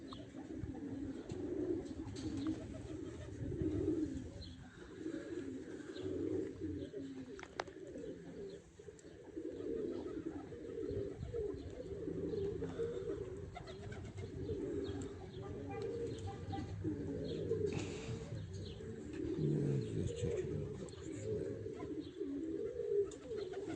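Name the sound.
racing pigeons cooing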